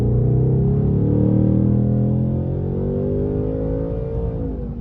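Ford Mustang GT V8 accelerating hard with its exhaust in track mode, a loud, continuous engine roar whose pitch climbs steadily through the rev range for several seconds, close and alone.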